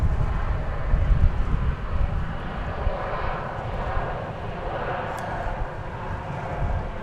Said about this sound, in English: Frontier Flight 2708 came in just now from San Diego, an Airbus A321neo.